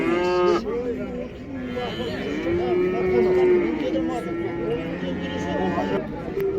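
Cattle lowing repeatedly at a livestock market in Taraz, with long drawn moos rising and falling over a steady crowd murmur and people talking nearby.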